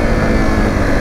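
Zontes 350 motorcycle engine pulling at 2000 RPM in second gear, a steady, loud, dense drone that holds close and even throughout the short stretch.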